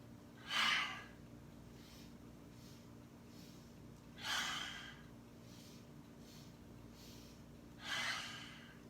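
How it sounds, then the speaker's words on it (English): Three forceful breaths during yoga practice, each a staged nasal inhale followed by a sharp exhale through the mouth, evenly spaced and fairly close in a quiet room. "The inhales are through the nose, 3 parts. The exhale is through the mouth, forcefully through the mouth."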